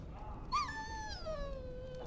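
A dog in the video game Dragon Age Origins lets out a single drawn-out whimper that rises, then slides down into a thin, fading whine over a low background hum.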